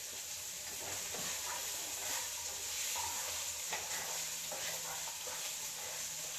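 Onion and a whole scotch bonnet pepper sizzle steadily in a hot pan, a constant close frying hiss broken by a few soft stirring scrapes, with no talking.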